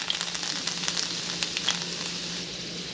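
Rosemary and garlic sizzle in brown butter in a pan, a steady crackling hiss sprinkled with small pops, moderately loud and close.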